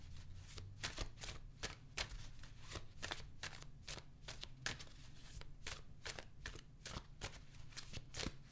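A tarot deck is shuffled nearby in a quick, repeated riffling rhythm of soft papery flicks, faint and steady with no voices.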